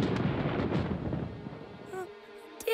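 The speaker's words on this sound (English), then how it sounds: "No, that was thunder. It means rain is on the way." Thunder rolls in a broad, rumbling wash that gradually fades, heard at moderate distance before a few faint higher tones near the end.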